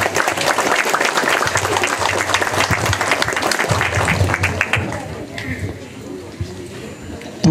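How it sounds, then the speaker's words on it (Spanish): A festival crowd at a Oaxacan village celebration applauds to welcome a speaker from a municipal philharmonic band, loud dense clapping with voices mixed in that fades after about five seconds, leaving quieter background noise. "Vamos a recibirlo con fuertes aplausos."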